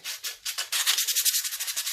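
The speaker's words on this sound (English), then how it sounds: "So I'll carry on sanding." Steady, rhythmic scraping of sandpaper on a Honda CB400T motorcycle part, a quick series of close back-and-forth strokes with no talking.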